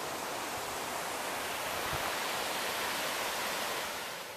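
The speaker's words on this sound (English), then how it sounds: "there's still a lot of water. I can hear it in the creek" Steady rushing water flows continuously, a broad even wash of sound from the creek running through Ice House Canyon nearby, with no voices.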